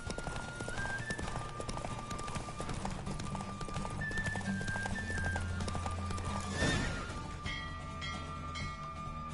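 Horse hooves clip-clop steadily at a gallop during a race in The Witcher 3, with a neigh or whinny breaking through, game music playing underneath, and a brief rush of noise near the end.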